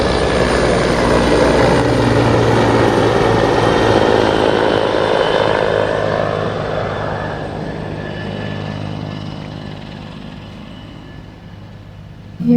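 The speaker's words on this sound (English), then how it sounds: "And there's a helicopter." A helicopter passes overhead near Miami's Cape Florida Lighthouse, its loud rotor and engine drone peaking early, then slowly fading into the distance.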